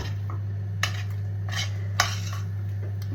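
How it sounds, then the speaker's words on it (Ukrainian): A small spoon clinks and scrapes inside a pot of macaroni and cheese in a few irregular strokes, over a steady low electrical hum. "І я ще додумалась мішати маленькою ложкою."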